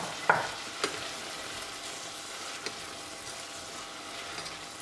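Shelled whelks and raisins are stirred into a frying pan, giving a soft, steady sizzle with a few light clinks and scrapes of the utensil near the start, close by and without speech.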